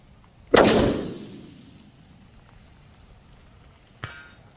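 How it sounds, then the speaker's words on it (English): A long-range rifle shot fired in the rain at a silhouette-shaped steel plate: a loud, sharp crack with a long decaying tail, then after a pause of several seconds a faint distant ping of the bullet striking the steel. "we're going to shoot at that center plate"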